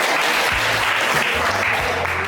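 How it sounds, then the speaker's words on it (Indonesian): A classroom full of people claps steadily for a couple of seconds, a dense, even burst of applause. "tepuk tangan untuk Bawas."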